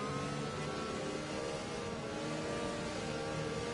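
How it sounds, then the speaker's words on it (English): Steady, continuous drone of a Renault-powered racing car engine in a video game, heard alone at a constant low level with no clear pitch changes. "that Renault engine note, especially the downshifts. They sound really, really good"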